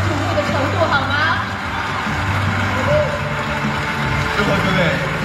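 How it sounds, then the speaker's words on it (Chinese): A crowd at the Weibo Night awards event cheers and roars in a steady, broad wash of noise, sustained throughout with a host's voice speaking over it. "再一次用你们的欢呼声感受一下他们受瞩目的程度好吗？"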